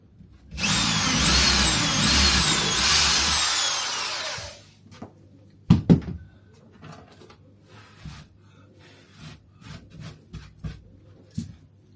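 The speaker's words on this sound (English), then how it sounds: "So that's the hole drilled in now." A power drill bores a hole in an arcade bandit machine, whining loudly and steadily for about four seconds up close, followed by clunks, rattles and handling knocks as the work stops.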